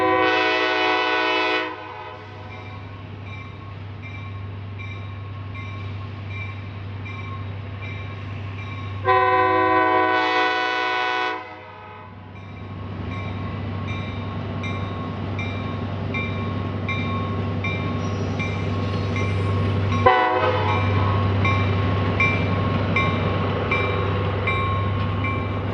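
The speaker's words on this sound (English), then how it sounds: "the train's coming into Souderton." A train rolls into Souderton near East Reliance Road with a steady low engine rumble throughout, and its horn blasts twice, loud and close, in long harmonic bursts near the start and again about ten seconds later, the rumble continuing afterward.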